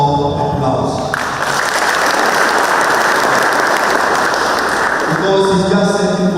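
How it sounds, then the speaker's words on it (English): An audience at a World Philosophy Day academic event breaks into a loud round of applause that swells in and fills the middle of the clip, with music-like tones before and after it. "So let's give another round of applause."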